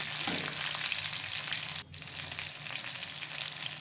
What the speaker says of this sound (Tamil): அடுத்து எறா தொக்கு சிக்கன் வறுத்துக்கிட்டுருக்கேன்